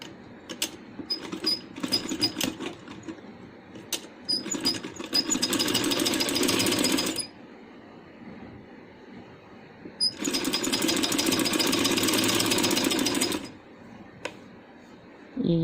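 Sewing machine stitching a handmade baby boy's dress, starting with short stuttering bursts, then running in two sustained loud stretches separated by a quiet pause.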